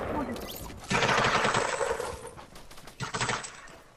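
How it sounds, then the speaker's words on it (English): Rapid bursts of video game gunfire crackle through the whole clip, loud and dense, with a heavy volley starting around the first second and another near the end; scattered voice sounds sit beneath the shots. "What am I meant to do if two people are shooting me?"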